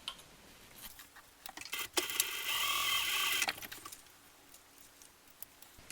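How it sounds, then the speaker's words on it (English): A sewing machine top stitches along the top edge of a crossbody bag, running in one steady, close burst of about two seconds between quieter handling clicks. "I'm just going to top stitch along there"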